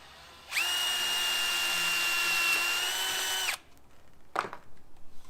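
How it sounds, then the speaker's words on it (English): A power drill bores a hole in metal for a floating-stair railing cap, one continuous loud whining run of about three seconds that starts and stops abruptly, followed by faint clinks. "Then we drill a hole."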